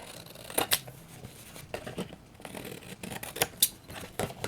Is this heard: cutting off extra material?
yes